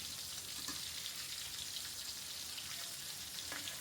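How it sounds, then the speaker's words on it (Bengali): Fish frying in hot oil, a steady close-up crackle and sizzle that holds evenly throughout with scattered small pops. "এপিঠ ওপিঠ খুব ভালোভাবে ভেজে নিচ্ছি।"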